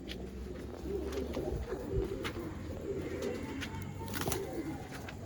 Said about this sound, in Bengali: দুটো পায়রাকে ছেড়ে দিচ্ছি, একবার দেখে নাও।